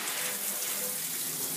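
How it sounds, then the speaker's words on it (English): Water runs steadily from a bathtub tap while a dog's bath is being filled, a continuous close hiss and splash with no pauses. "And then water comes out."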